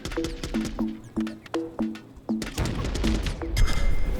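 Enemy gunfire in the video game Tokyo 42 comes as a series of sharp, evenly spaced shots with tonal pings, followed by a louder, noisier burst of impacts and crashes toward the end.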